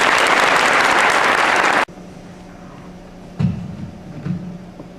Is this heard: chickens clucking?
no